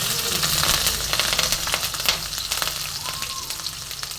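Panch phoron spices and chopped green chili hit hot mustard oil, giving a loud, continuous close-up sizzle laced with sharp crackling pops.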